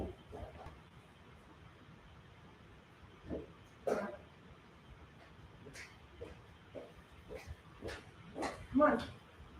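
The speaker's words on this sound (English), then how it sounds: "Sorry, dog in training." A dog in training barks and whimpers in a quiet room, several short yips and woofs scattered across the clip, fairly faint, with a person murmuring now and then.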